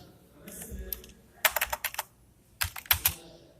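Code being typed on a computer keyboard, with short bursts of crisp, close key clicks separated by brief pauses.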